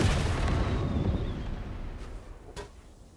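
A bomb explodes in the building game Trailmakers, dropped from a player-built bomber plane: a loud, broad rumbling boom that fills the opening second and then slowly fades, followed by a short sharp crack near the end.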